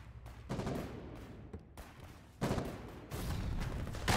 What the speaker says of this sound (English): That is a Volta shooting at us.